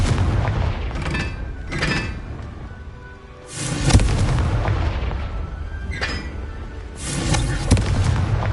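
A Confringo explosion spell fires in Hogwarts Legacy, loud booming blasts with rumbling crackle, several heavy bursts in a row with a brief lull in between, close and dominant.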